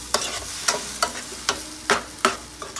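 Spoon stirring fried potatoes with grated tomato in a hot pan, six or seven evenly spaced scraping strokes over a faint sizzle, close and fairly quiet.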